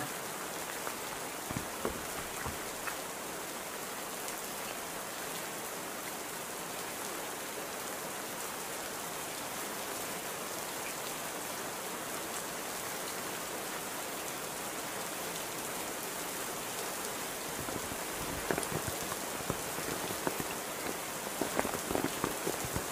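Super heavy rain pours down steadily after Christmas celebrations, a dense, constant hiss of water hitting surfaces that stays even throughout. A few sharper drips and splashes stand out near the end.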